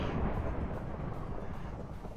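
Thunderstorm rumbling across an entire video game world, a low continuous rolling roar with faint variations and no distinct cracks.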